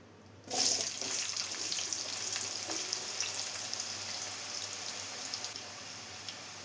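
Mango pieces drop into hot sesame oil for a no-vinegar oil pickle, bursting into a loud sizzle that settles into a steady, close, continuous hiss and crackle.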